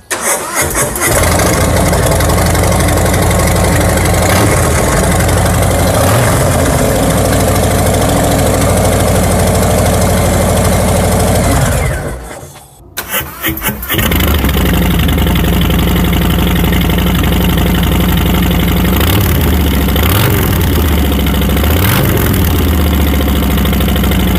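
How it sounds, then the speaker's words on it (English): A motorcycle fitted with quiet exhaust baffles runs at a loud, steady idle, briefly cutting out and restarting midway, then settling back into a deep, throaty rumble. "results in a much deeper, richer tone from this exhaust system"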